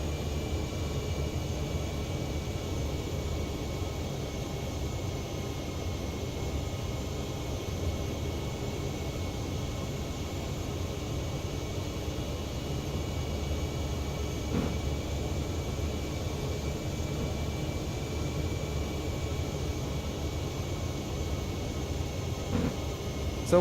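TBM 850 turboprop taxiing at Milford Sound in Microsoft Flight Simulator 2024, a steady, even engine drone with a constant high whine and low rumble held at one level throughout, with no talk.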